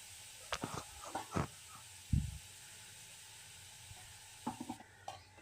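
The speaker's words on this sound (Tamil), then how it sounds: "இப்போ சிக்கனை போட்டு வதக்கிக்கோங்க" Marinated chicken in lemon juice, ginger-garlic paste and yogurt sautés in a pan, a quiet steady sizzle broken by a few scraping stirs and knocks of the spoon.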